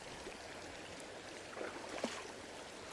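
Cold, clean mountain river water flows steadily with a broad, constant rushing wash, with faint splashes here and there.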